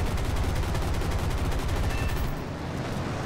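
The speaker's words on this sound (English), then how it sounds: "We got shot at." Dense, continuous machine-gun fire aimed at a P-40E-1 Kittyhawk fighter in War Thunder, a loud rattling barrage that fills the clip and eases slightly toward the end.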